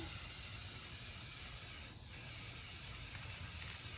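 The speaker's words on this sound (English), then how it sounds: "Now I'm going to start priming my nutcracker's head with this gray primer." A close, continuous hiss from a spray can of 2x Ultra Cover flat gray primer as it coats a plastic nutcracker head, steady throughout with one brief pause partway, no talk.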